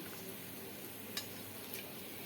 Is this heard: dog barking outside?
no